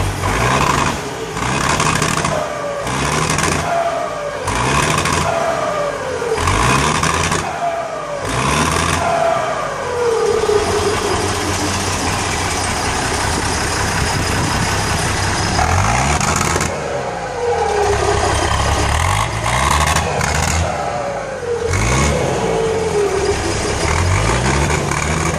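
A Ford truck fitted with a Nissan 175 engine, suffering an injection fault and with a hole cut in its muffled exhaust, revs hard in repeated bursts. Each rise ends in a descending turbo whistle, then the engine settles into a rough, loud idle between runs.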